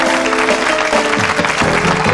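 An audience applauds during a Cuban music gala, a brief, loud and dense burst of clapping with music tones running underneath.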